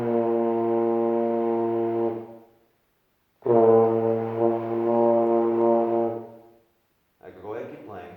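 A beginner on trombone holds two long, buzzy low notes, the first fading out before a pause and the second coming in louder and rougher, then a person starts talking right after.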